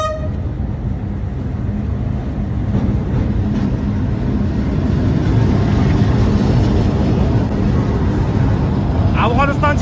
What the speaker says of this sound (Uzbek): Mana kelyapti. O'sha mashhur poyezd.